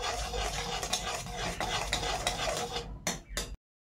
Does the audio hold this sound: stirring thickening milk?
yes